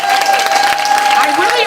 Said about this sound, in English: One more round of applause for our wonderful scholars.